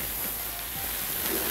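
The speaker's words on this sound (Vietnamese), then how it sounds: "sau đó quý vị sẽ lật cái miếng cá lại để cho nó chiên đều hơn" Vegan fish and vegetables frying in a pan, a steady soft hiss of sizzling oil, close and continuous.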